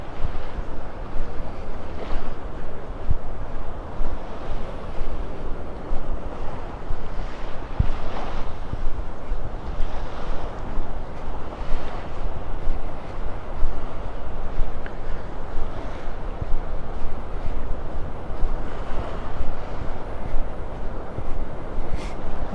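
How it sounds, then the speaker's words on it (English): Ocean surf on a beach in North Naples, Florida, a steady broadband wash of waves with wind buffeting the microphone throughout, moderately loud and continuous with no talking. "The beach is quiet."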